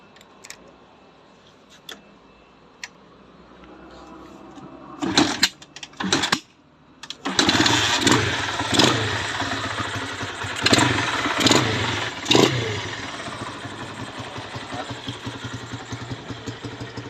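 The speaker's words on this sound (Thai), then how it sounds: "เดี๋ยวเราลองมาฟังเสียงเครื่องยนต์ดูนะครับผม" A 2003 Honda Sonic motorcycle engine cranks in a few short bursts, then catches and settles into a loud, steady idle close by, with rhythmic revving swells over the running engine.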